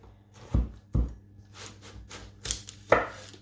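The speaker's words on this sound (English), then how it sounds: "So if you want, you can just cut one side first." A warm knife slicing through a slab of white chocolate rocky road, four or five firm chopping thuds on a board spaced about half a second apart, close and clear with no talking.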